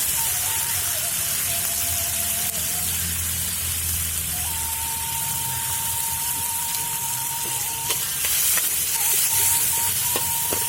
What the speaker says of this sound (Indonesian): Bawang merah, bawang putih biasalah kayak gini. Dihaluskan, ditumis.